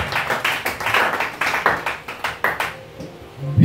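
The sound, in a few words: congregation clapping and cheering for Jesus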